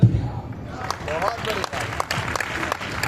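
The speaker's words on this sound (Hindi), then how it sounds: "थोड़ा बढ़ाना इन तालियों को" Audience applause at a Hindi humorous poetry recital, a short burst of clapping from the crowd mixed with a voice talking over it throughout.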